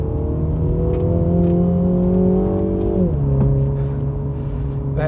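A Mini JCW GP3 engine revs hard under a paddle downshift, a steady loud drone that steps down in pitch at the shift and then settles to a lower engine note, close and continuous.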